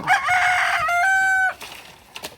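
A rooster crows nearby in one loud, sustained call that cuts off sharply, followed by faint rustling.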